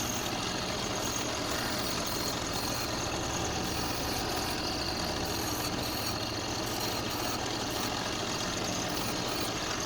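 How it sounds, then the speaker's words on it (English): Belt sander shaping an angle on a wooden fishing bait body, a steady, loud, continuous motor roar with a gritty abrasive hiss that holds unbroken throughout, no voices. "I'm going to be real careful with the belt sander when I take this angle off."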